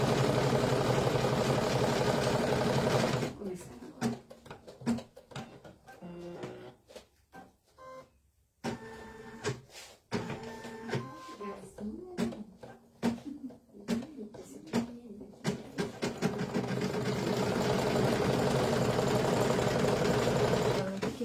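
An embroidery sewing machine stitching an in-the-hoop Easter bunny basket runs steadily and loudly at the start and end. In the middle it stops, leaving a stretch of talk and clicks.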